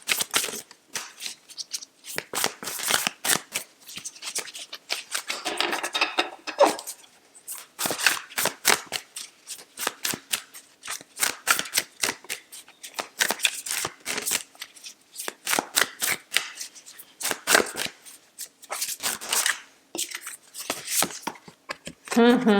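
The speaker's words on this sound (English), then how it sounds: "Let's get out your overarching tarot card, Libra." Tarot cards being shuffled by hand during a reading, with repeated crisp riffling bursts in irregular bunches over about twenty seconds, fairly close and moderately loud, with brief quiet gaps between shuffles.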